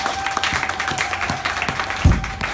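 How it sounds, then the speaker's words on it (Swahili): A church congregation at a Sunday service claps in steady applause, loud and close throughout, with one deep thump near the end. "Pigia Bwana makofi makubwa"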